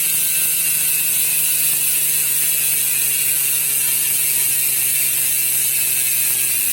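A Speedone Torpedo 8-pawl bicycle rear hub freewheels with a loud, dense, rapid ratchet buzz of fine clicks, steady and close throughout with no talking.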